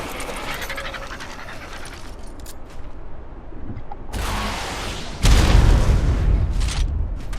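Rocket explosions hitting a stone wall in the video game Ark, Scorched Earth map: two loud booming blasts a second apart, the second heavier with a deep rumble, over steady game noise.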